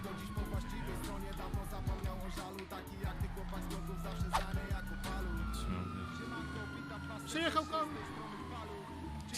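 Police sirens from Liberty City police cars in the video game GTA IV wail with rising and falling tones over engine noise and chaotic game sounds, loud and continuous throughout.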